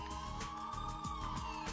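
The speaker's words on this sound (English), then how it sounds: "Who's making loud sirens in the video game?" Wailing police-style siren from the video game Spider-Man 2: Enter Electro, a steady high rising tone over layered game sounds and rhythmic thumps, continuous and fairly loud with no talk.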